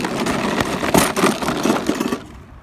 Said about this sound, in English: There goes the fucking lawnmower.